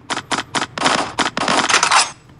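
Gunfire from a mobile shooting game: a quick run of about nine crisp, evenly spaced shots in bursts, close and clear, with no talking.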